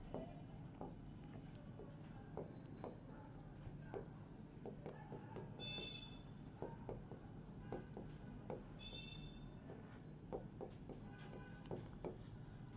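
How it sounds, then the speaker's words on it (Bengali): Marker or chalk scratching across a classroom board in steady strokes and short squeaks, faint and continuous against a constant room hum. "তাহলে আমি লিখবো"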